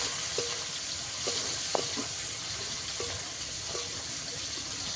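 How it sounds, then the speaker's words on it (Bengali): Prawns and chopped onion frying together in a pan: a steady, dense sizzle throughout, with a few soft stirring taps and scrapes, close and moderately quiet. "পেঁয়াজ কুচি কিছুটা দিয়ে দেবো দিয়ে চিংড়ি মাছের সঙ্গে ভেজে নেবো"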